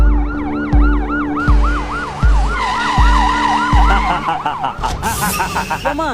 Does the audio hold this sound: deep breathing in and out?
no